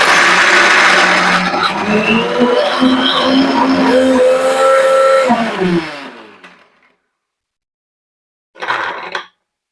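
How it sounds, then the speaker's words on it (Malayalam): A mixer grinder jar crushing ingredients for a traditional Uttar Pradesh snack, a loud whirring grind that runs for about six seconds, winds down to silence, then gives one short burst. "ഇത് മിക്സി ജാറിലേക്ക് അടിച്ചിട്ട് എടുക്കാം"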